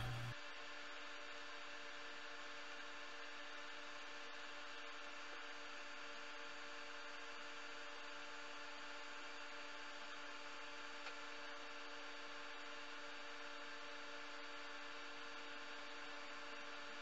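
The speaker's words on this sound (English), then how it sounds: "A lot of sanding." A steady, faint mechanical whir with a constant hum persists throughout as a wooden Celtic knot bowl is sanded on a woodturning lathe, with no talking.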